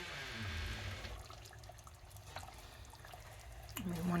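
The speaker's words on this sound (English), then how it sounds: "I'm going to add my 7 cups of sugar into this mixture on the stove" Sugar is poured into a grape jelly mixture of juice, pectin and butter in a pot on a stove, making a faint, soft hiss. The pouring is loudest at first, then fades to a quiet trickle.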